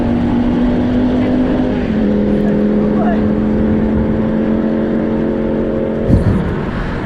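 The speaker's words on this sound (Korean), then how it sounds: "이제 오토바이들이 막 열심히 지나가네요." Motorcycles roar past a cyclist riding along the Gyeongancheon stream path, giving a steady, loud engine drone with a sustained low hum and a brief surge near the end, under wind noise.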